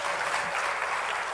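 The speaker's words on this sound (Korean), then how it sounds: "박수입니다." Audience applause at a school education talk about a happy-school program, steady dense clapping filling the room for a brief moment with no voices.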